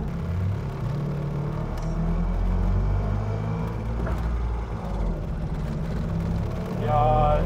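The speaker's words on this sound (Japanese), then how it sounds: "これギア変えるときに回転が上がっちゃう感じですね" Engine of a Messerschmitt KR200, the small three-wheeled bubble car, droning close and loud from inside while driving, its revs rising during a gear change with the clutch not fully released, and a brief higher whine near the end.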